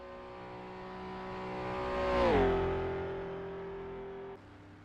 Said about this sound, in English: Richard Woodcock driving a Dutch Mercedes, looking very swish